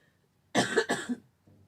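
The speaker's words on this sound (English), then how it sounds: "I've got a cough." Two quick, harsh coughs close by, one right after the other, followed by quiet.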